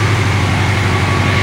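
A 1986 Yamaha Fazer FZX700S motorcycle engine idles cold at a little over 1,000 RPM, a close, loud, steady low rumble with an even pulsing beat.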